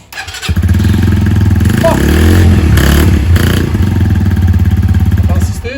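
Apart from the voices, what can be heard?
Brixton 125 Felsberg motorcycle engine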